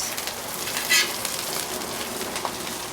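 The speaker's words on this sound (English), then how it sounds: "that can sizzle a little bit longer" Steady crackling sizzle of burger buns toasting on a hot Blackstone griddle, a continuous fine hiss with a brief louder burst near the start.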